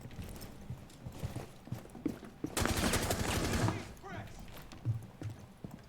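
Rapid bursts of gunfire ring out in Rainbow Six Siege, a dense rattling volley peaking midway, surrounded by the player's talk and quieter game sounds.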